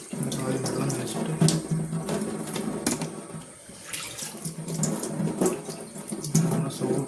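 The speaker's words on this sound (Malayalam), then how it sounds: "ഫാനിൻ്റെ ലീഫ് കഴുകിയെടുക്കാം. ശരി, ആദ്യം വെള്ളം നനച്ചിട്ട്" A tap runs steadily into a sink while fan blades are washed under it. The splashing is continuous and close, with clattering handling noises, and a person talks over the water.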